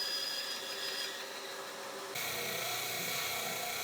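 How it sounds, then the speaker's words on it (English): A bandsaw cutting through a wooden gate rail, a steady high whining drone that shifts pitch and grows louder midway as the blade bites into the wood, close and continuous with no talk. "Then I move over to the bandsaw and connect the 2 cuts together."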